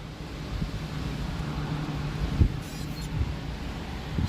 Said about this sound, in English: It's really windy as crap.